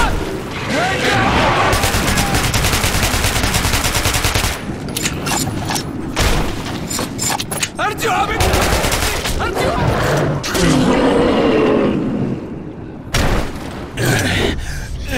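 In Metro 2033 Redux, dense, loud bursts of automatic gunfire rattle almost continuously, broken by short gaps and sharp single shots, with frantic shouting mixed in.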